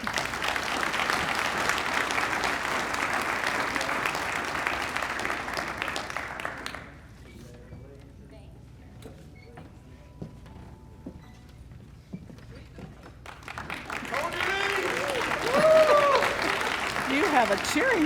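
Audience applause and cheers fill the hall at the 2021 Chamber of Commerce annual awards banquet in Fairfield, Iowa, loud and steady for about seven seconds, then a quiet stretch before a second burst of clapping and whoops returns.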